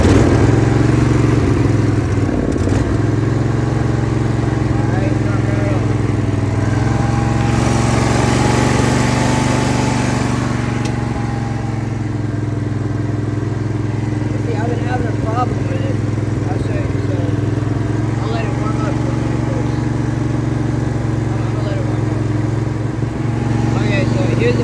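A Craftsman 20hp riding lawn mower engine runs steadily, loud and close, its low throbbing drone continuing for the whole stretch with faint clatter and muffled voices at times.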